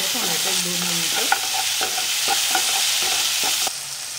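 Tomatoes sautéing in oil in a pan for garlic spinach dal, a steady sizzle with spoon scrapes and stirring clacks repeating every half second or so.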